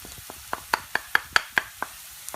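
A spoon stirs garlic powder, chili powder and cumin into a pot of spicy chicken soup, giving a quick series of sharp scraping clinks against the pot, evenly spaced and close.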